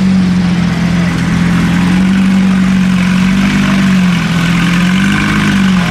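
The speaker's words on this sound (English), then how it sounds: "Guys, listen to this GT3 cranked up." Porsche 911 GT3 at a cars and coffee meet, its engine holding a loud, steady throaty drone close by with slight rises in pitch as it moves off.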